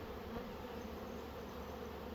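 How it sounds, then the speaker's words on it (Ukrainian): Wasps crawl and buzz around jars in a steady, continuous drone, close and fairly quiet, with no voices. "Тут є оси. Лізуть, лізуть зарази."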